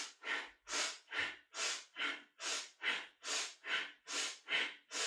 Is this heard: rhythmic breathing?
yes